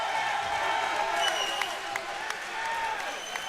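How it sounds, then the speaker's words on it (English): A crowd at an MMA fight night cheers and applauds steadily in a large venue, heard at a distance beneath commentators talking. "The crowd is going crazy right now"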